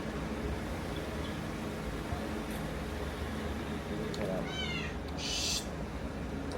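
A cat hanging around a KFC restaurant gives a couple of faint, brief meows against a constant steady hiss of background noise like air conditioning.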